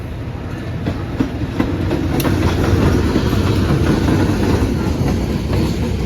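A Red and Blue locomotive hauling a baggage car rumbles past close by, loud and continuous, with rhythmic clicking of wheels over rail joints.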